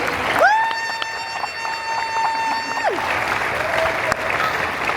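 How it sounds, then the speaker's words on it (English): An audience claps steadily throughout while a loud, sustained tone like a horn or whistle rises, holds for a few seconds and slides down. "So please give a big round of applause to Lara McQueen once again."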